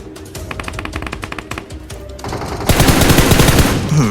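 Rapid automatic gunfire from PUBG Mobile, beginning as a steady rattling burst and then swelling into a louder, denser volley near the end, heard close with no talking.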